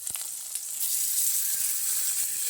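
Chicken pieces drop into a hot kadai for a Bengali home-style curry, and a bright hissing sizzle swells up and holds loudly, with a few faint clinks at the start.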